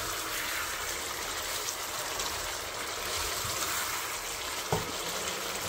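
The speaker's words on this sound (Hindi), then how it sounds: "ये हमने 1 गिलास पानी डाल दिया," A glass of water pours into sizzling chicken karahi in a pan, a continuous hissing, bubbling rush with a slight knock near the end.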